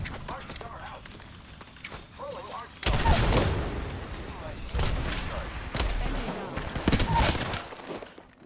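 Grenade explosions and gunfire in the Apex Legends video game, several heavy booms and bursts of shots from about three seconds onward, mixed with footsteps and players talking over the action.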